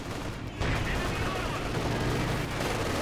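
Grenade blasts and gunfire crackle in a Company of Heroes 2 match, a dense burst of battle noise that jumps up sharply and rumbles on, with faint voices underneath.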